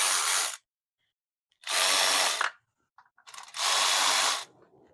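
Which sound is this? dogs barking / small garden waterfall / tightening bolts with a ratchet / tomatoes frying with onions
tightening bolts with a ratchet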